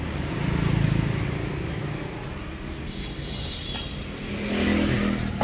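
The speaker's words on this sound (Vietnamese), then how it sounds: "máy móc được cái máy êm nha" A Daewoo Nubira car engine idles smoothly with a steady low rumble heard from close by, swelling slightly near the end, with no talking.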